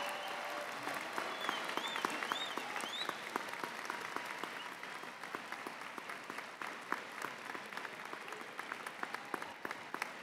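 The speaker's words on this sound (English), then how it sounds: "I want the graduates to stand and applaud your family members, parents, and others who are here today" Graduates applaud their families at the UMBC spring undergraduate commencement, a large crowd clapping in a broad, sustained roar that slowly thins into scattered individual claps, with a few faint whistles early on.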